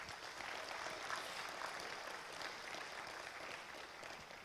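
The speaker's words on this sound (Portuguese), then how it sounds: "Pode aplaudir ao Senhor" Faint, distant applause from a church congregation rolls on evenly for several seconds, a soft continuous patter of many hands.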